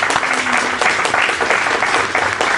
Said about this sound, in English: give all the panelists a round of applause